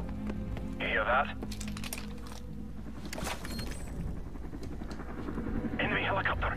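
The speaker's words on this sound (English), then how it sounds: "Enemy helicopter, get down." An enemy helicopter approaches in Call of Duty: Modern Warfare, its steady rotor drone rising under game sounds, radio chatter and spoken dialogue.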